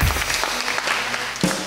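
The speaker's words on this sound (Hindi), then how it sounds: "तालियां" Studio audience applause on a Pakistani TV talk show, a steady dense wash of clapping that holds through the clip and swells again near the end.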